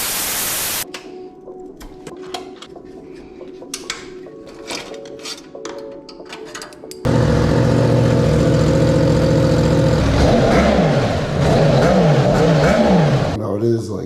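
A Yamaha R1M motorcycle with a new aftermarket exhaust, heard at night: talking at first, then the engine bursts in loud and close, holding a rough idle before several rising and falling revs near the end.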